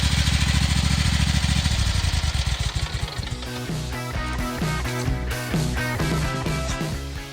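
A garden tractor engine runs loud and steady up close, with a rapid mechanical chatter, then is shut off with the kill button and winds down into a rattling, uneven idle as it stops.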